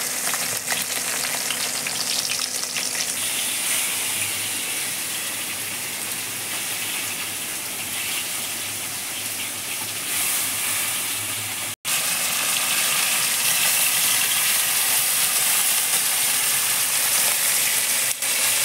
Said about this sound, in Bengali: তেলের মধ্যে মাছ কেমন ভাজা হচ্ছে দেখুন